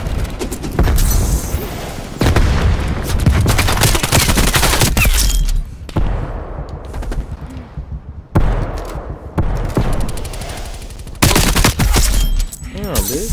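AK74U submachine gun fire in Call of Duty Black Ops Cold War, loud sustained automatic bursts broken by short pauses, with mechanical clatter and game effects, and a voice talking beneath the shooting.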